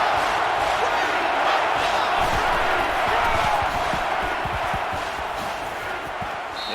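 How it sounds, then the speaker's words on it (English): Stadium crowd in a college football video game with Michigan playing, a steady, dense roar of cheering spectators that holds loud and even throughout, faintly tapering toward the end. "This crowd can really be intimidating for an opposing team."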